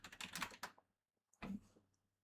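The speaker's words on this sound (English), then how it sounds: "I'm gonna now just type it." Quick keystrokes on a computer keyboard, a short burst of clicks, a pause, then a second brief flurry, close and clear in a quiet room.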